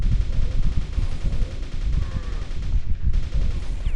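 Rapid nail gun fire in the video game Quake, a dense continuous stream of thudding shots with game noise, loud and close, broken by a brief gap near the end.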